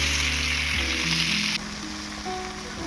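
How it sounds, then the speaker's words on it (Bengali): Tomatoes sizzle in hot oil in a pan while a Bengali mashed tomato dish is cooked. The hiss is steady and close, with no talk, and it thins and quiets partway through. "টমেটোগুলো এবারে ভেজে নেব।"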